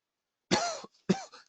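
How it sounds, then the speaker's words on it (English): A person coughs twice in quick succession, two sharp, close bursts separated by a brief pause, with no talking around them. "Just had a coughing fit."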